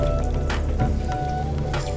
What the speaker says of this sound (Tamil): 1 டம்ளர் ஊற்றியாச்சு.